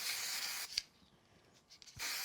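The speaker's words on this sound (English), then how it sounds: "I'll use a little bit of the spray glue" An aerosol can of spray glue sprays adhesive onto card in two close hissing bursts separated by a short quiet gap, with soft handling noises in between and no talking.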